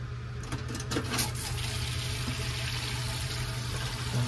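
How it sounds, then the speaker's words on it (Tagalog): Water is poured into a coconut milk mixture for baked ube, a steady splashing stream heard close up over a constant low hum. "Lagyan natin ng konting tubig ha."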